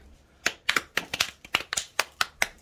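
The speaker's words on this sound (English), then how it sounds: "Give Knox a clap" Roughly a dozen sharp hand claps in a loose, uneven rhythm, close and fairly loud in a quiet room, celebrating a Pokemon Shining Fates card pull.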